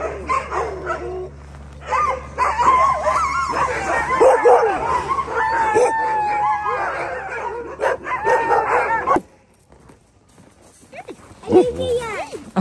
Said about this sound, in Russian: Это порода аляскинская хаски.